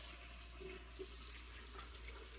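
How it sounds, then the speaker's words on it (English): Water runs from a tap while shaving lather is mixed, a steady quiet hiss of flow with no talk over it. "Add a little bit more water."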